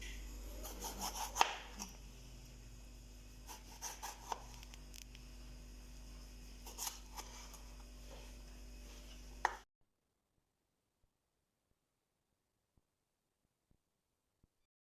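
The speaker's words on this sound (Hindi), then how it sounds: "अब इसी तरह हम टमाटर के स्लाइसेस काट लेंगे।" A knife cuts tomatoes into slices on a board, soft rubbing and scraping strokes with a few sharper taps over about ten seconds, close and quiet, then near silence with faint ticks.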